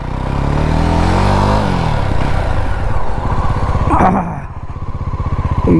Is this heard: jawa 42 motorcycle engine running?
yes